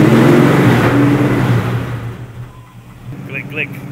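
An old, long-stored Plymouth Duster car engine revs loudly up close, holding high before the roar eases down to a lower idle, with brief faint squeaks near the end.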